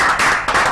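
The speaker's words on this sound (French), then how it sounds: "On peut applaudir pour lui, non?" An audience applauds in a brief, dense burst of clapping for a new regional governor, loud and close, in two short waves.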